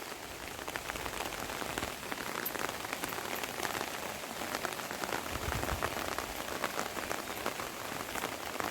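Steady rain falling on a Konkan village with cashew orchards, a soft, even patter of drops on surfaces without pause, moderately quiet and alone.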